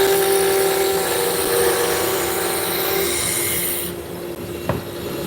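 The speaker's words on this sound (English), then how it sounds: "we're going to take a roughing gouge and start bringing this diameter down" A wood lathe spins a workpiece down with a roughing gouge, making a loud, continuous whine and scraping roar with a tonal hum; the cutting noise drops off abruptly near the end, leaving the motor running and a short knock.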